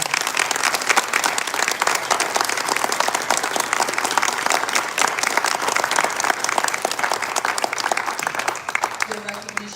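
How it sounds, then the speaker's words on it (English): Sustained applause from an audience at a Hall of Distinction ceremony honoring a group of inductees, dense steady clapping filling the whole stretch with a faint crowd murmur beneath. "Can you please give them a rounding applause?"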